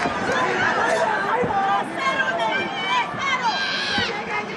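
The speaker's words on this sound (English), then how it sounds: "As you can hear this massive crowd in Tokyo trying to rally support" A massive crowd at a boxing match in Tokyo roars and cheers continuously, a dense wall of voices with rising shouts, under a commentator's excited speech.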